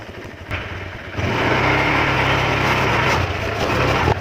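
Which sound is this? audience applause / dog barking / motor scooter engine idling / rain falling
motor scooter engine idling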